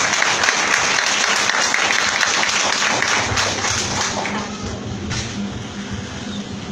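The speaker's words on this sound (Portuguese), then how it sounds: "Receba o servo de Deus com as palmas bem alegres." A church congregation at a couples' gathering applauds to welcome the pastor, dense sustained clapping filling the room at steady loudness, with a low rumble underneath and the applause thinning slightly toward the end.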